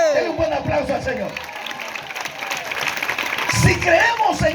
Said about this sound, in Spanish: Denle un buen aplauso al Señor.